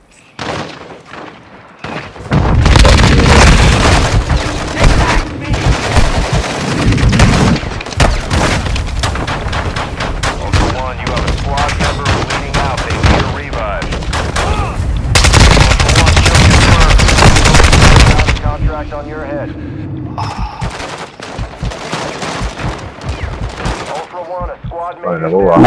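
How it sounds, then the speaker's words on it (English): Heavy gunfire rattles through a squad-based shooter video game, with dense bursts of automatic fire and booming impacts that come in loud waves and then thin out to scattered shots near the end. "You are taking effective fire"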